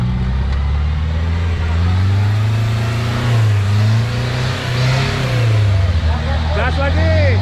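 An armoured, bulletproof Toyota Land Cruiser 200 accelerates, its engine drone rising and falling steadily and loud throughout, with a voice speaking over it.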